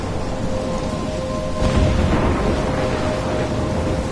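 A video game thunderstorm brings steady, heavy rain, and a deep roll of thunder swells partway through before fading back into the downpour. No one speaks.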